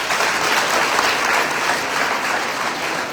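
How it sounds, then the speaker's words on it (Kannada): Audience applause at a talk event, a dense steady burst of many hands clapping that fills the room evenly for a few seconds. "ಅವಳಿಗೆ ಚಪ್ಪಾಳೆ ಹೊಡೀರಿ"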